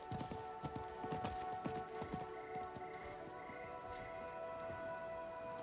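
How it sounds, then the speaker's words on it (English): Steady clip-clop of horse hooves trotting in an even rhythm in the video game Diablo IV, over a background of sustained musical tones. "I think that was the merchant's horse."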